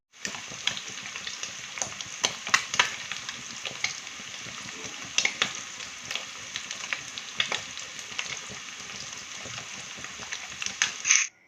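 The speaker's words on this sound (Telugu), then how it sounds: "రొయ్యలు అయితే ఆయిల్లో మంచిగా వేగినాయండి" Raw prawns frying in oil for a ridge gourd curry, a steady bright hiss of sizzling with scattered pops and crackles throughout, close and unbroken until it stops abruptly.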